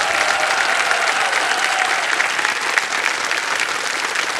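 A studio audience on the Kaun Banega Crorepati (KBC) quiz show applauds a contestant who quits with 25 lakh rupees; the clapping is dense, steady and sustained throughout, with no voices over it.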